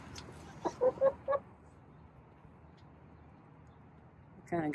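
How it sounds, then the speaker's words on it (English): A hen in a backyard coop clucks her egg-laying song, a few short close clucks in quick succession, then a quiet pause before a louder burst near the end. "That's kind of your song for I need to lay an egg."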